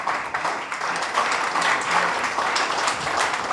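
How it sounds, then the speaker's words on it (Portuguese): An audience at a creative and literary arts gathering breaks into steady, crowded applause, with a continuous wash of many hands clapping at an even, fairly loud level throughout. "Un aplauso más fuerte."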